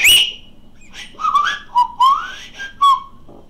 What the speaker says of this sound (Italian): Raga, io fischio.